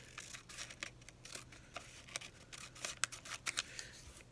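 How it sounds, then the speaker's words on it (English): Scissors snip through small pieces of paper for an art sketchbook warm-up, a quiet run of crisp, closely spaced cuts and rustles at close range with no talk. "What I might actually do is get my scissors"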